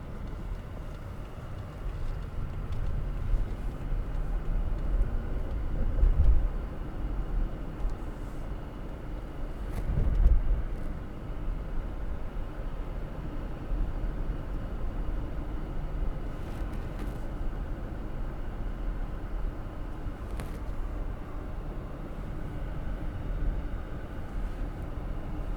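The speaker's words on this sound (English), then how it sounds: "That noise that's been going on all that time was a climate control" Steady low hum of the rear-seat independent climate control in a 2009 BMW 750Li long-wheelbase saloon, a continuous broadband whoosh inside the cabin with road rumble underneath and a couple of brief louder bumps.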